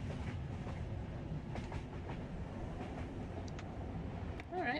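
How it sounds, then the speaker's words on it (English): A train rolls along in Yume Nikki, a steady low rumble with rhythmic clickety-clack close by and no talking. "let's see where this train takes us now"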